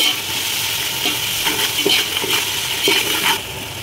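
Rice with salt and a bay leaf is stirred in a pot for chicken pulao, with a spoon scraping and knocking in several close strokes over a steady sizzle.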